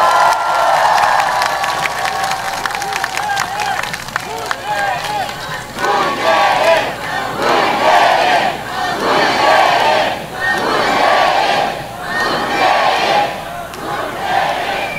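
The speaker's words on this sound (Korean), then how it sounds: "다시 한번 큰 격려의 박수 부탁드립니다" A large outdoor crowd at a presidential campaign rally in Busan roars with cheering, shouts and applause, swelling and ebbing in loud repeated waves for the whole stretch.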